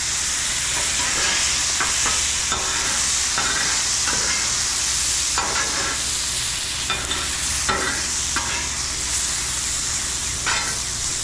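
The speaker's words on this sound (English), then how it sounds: "Hear that sizzle." Carrots sizzle and hiss as they steam in a hot pan, a steady close frying crackle with bursts of steam and light stirring throughout, with no talking.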